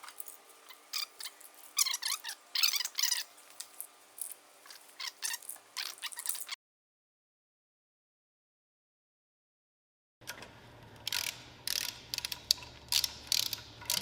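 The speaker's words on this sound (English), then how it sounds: "Trying to put the caps on and torque them down," Ratchet torquing down camshaft caps on a BMW M52 engine during a turbo build: rapid clicking bursts in quick strokes, close up, cutting to a silent gap of several seconds before more clicking resumes.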